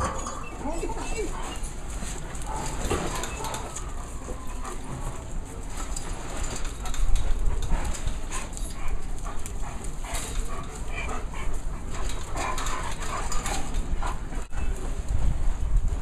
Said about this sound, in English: So these are the dogs that were considered dog aggressive?